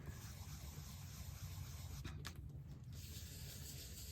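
Ink being rubbed through a stencil onto paper over a rose design: a faint, steady soft scrubbing hiss with a brief louder scrape midway, no voices.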